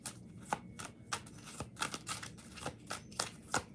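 Tarot cards are shuffled by hand during a live reading, with a quick string of crisp riffling snaps at a fairly even rhythm, close and alone.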